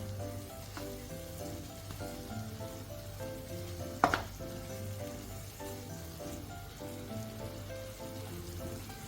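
Brinjal with spices cooks in a pan while being stirred, a soft continuous sizzle under a low steady hum, with one brief sharp clatter midway.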